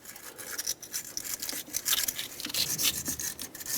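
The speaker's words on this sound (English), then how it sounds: "With a wire brush, I'm going to clean the area, making sure that there's no debris or corrosion where the starter mounts." A hand wire brush scrubs debris and corrosion from the starter mounting area of a 2012-2017 Honda Accord, producing quick, close, raspy back-and-forth strokes in an uneven rhythm.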